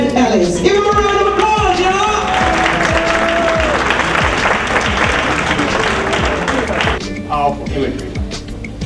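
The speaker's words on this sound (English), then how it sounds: "Give him a round of applause" A large audience applauds steadily for several seconds as music plays and a voice speaks over the clapping.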